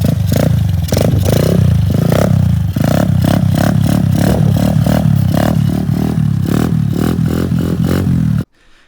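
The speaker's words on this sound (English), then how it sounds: "this is me wheeling on this bike" Kawasaki KLX 110 pit bike held up in a wheelie, its small engine revving loudly and close in rapid pulsing bursts with clattering, then cutting off abruptly near the end.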